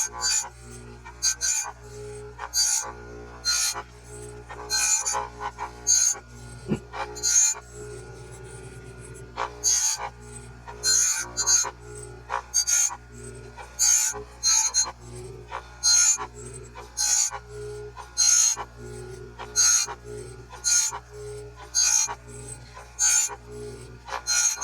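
Oregon 620-120 chain grinder with a CBN wheel lightly touching a full chisel chainsaw tooth, giving repeated short rasping grinds in a regular rhythm over a low steady motor hum, close and clear.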